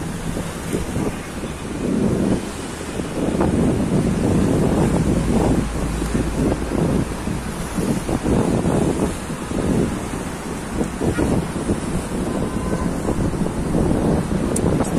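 Wind gusting across a microphone on the Alexandria seafront after a storm, with sea waves washing in beneath it, a loud, continuous roar that rises and falls throughout.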